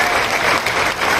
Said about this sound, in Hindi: तालियों की गड़गड़ाहट से धन्यवाद।